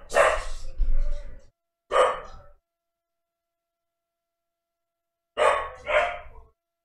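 A dog barks inside a house, several sharp close barks in two short bursts separated by a long quiet gap, with no talking over them.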